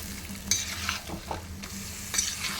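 Goat meat with turmeric is stirred in a hot pan, a steady sizzle of oil broken by several scraping spatula strokes and soft clinks, close up and without any talk.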